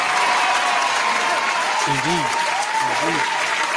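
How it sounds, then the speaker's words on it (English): Applause on a mixshow podcast, a continuous hiss of clapping and crowd noise under a voice saying a word. "Round of applause for engineers and producers"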